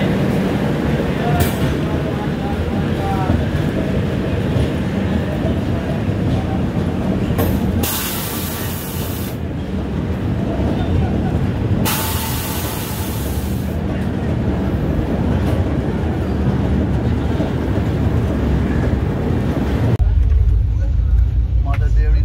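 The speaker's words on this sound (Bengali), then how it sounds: "বেলা 11টা 43 মিনিটে আমাদের ট্রেন এসে পৌঁছে গেল বিজয়নগরম স্টেশনে।" The 12867 Howrah-Puducherry Superfast Express train pulls into Vizianagaram railway station, a loud continuous rolling rumble with brief hissing bursts and voices in the background.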